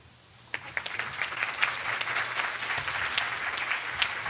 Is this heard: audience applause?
yes